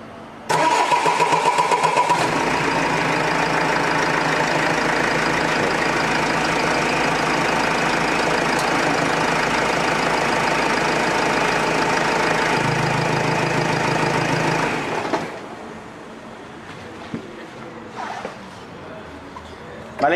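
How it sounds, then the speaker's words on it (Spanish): An Opel Vivaro 1.9 CDTI diesel van engine cranks and catches with a loud burst, then settles into a steady, close idle that runs for several seconds before cutting off, leaving quieter background sounds. "Vamos a arrancar el coche para que se llene el filtro."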